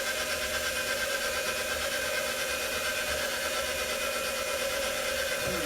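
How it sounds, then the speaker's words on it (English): Electric mixer beating cream into stiff peaks for a caramel trifle, a steady, continuous motor whir with a dense rasp that runs evenly and fairly close throughout, with no talking. "So let's get this blended up just a little bit so you can see what it looks like."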